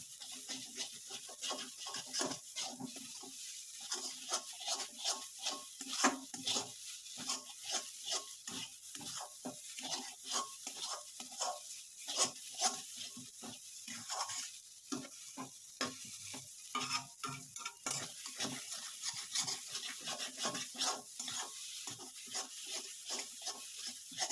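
Green peas stir-fried in a pan, a soft continuous sizzle overlaid with rapid, busy scraping and tossing strokes throughout, fairly quiet and close with no speech.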